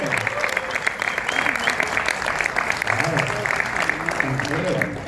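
A crowd at a stadium anniversary event for New York City FC applauds with dense, steady clapping and cheering that holds at an even level, while voices call out over it.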